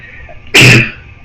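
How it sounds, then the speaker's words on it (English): A single loud, close sneeze bursts out abruptly and fades within about a third of a second, alone against a faint room hum. "It's the first time I sneezed in a while."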